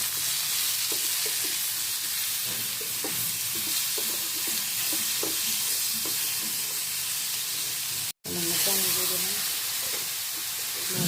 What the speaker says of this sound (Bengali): সব মশলা একসাথে দিয়ে কষিয়ে নিচ্ছি হলুদ মরিচ ধনিয়ার গুঁড়া কাঁচামরিচ টমেটো